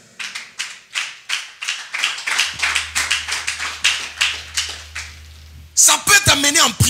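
A congregation at an evangelical church service claps in a steady, even rhythm, then a louder, denser burst of clapping comes at the end.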